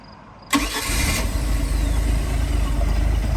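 The engine of a 1990 Sea Ray Seville boat, which had been having starting problems, cranks briefly and fires into a sudden loud start, then settles into a steady, rumbling idle, with no talking.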